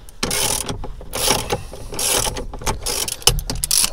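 Rapid ratchet clicking from a socket on an extension bar as a car's steering wheel nut is undone, bursts of close, loud metallic ticking repeated in several quick runs with brief pauses between.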